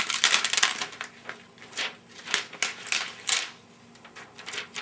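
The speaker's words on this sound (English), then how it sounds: "Let's peel the stencil off." A paper or plastic stencil being peeled off a handmade mask-and-stencil craft piece, giving a run of close, crisp crackling and tearing rustles in uneven bursts, with no talk.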